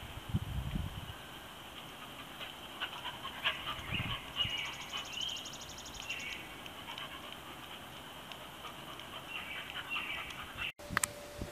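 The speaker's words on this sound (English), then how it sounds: "my dog is playing chase with him, wants to play." A beagle pants faintly in a backyard while playing chase with a young buck deer, a quiet, distant breathing sound under outdoor ambience, with a brief bird chirp.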